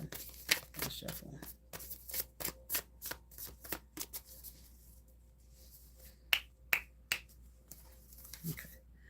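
A tarot deck is shuffled up close, giving a rapid series of crisp riffling snaps and flutters that thin out into a few sharper, spaced clicks toward the end.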